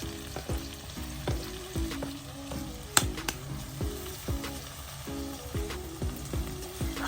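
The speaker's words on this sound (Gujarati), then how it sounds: "હવે થોડી વાર આપણે ફ્રાય થવા દઈશું આને" Green garlic and green chilies frying in a pan over lowered gas heat, a continuous close sizzle with a rhythmic series of spatula scrapes and clinks stirring the pan roughly every half second, one sharp knock in the middle.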